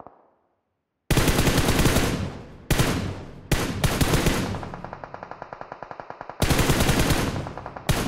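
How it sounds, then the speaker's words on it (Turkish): Fortnite gunfire coming from several directions, loud bursts of rapid automatic fire and single shots rattling in quick sequence with short gaps, alone and close. "Evden sıktılar, oradan sıktılar, buradan her yerden sıktılar."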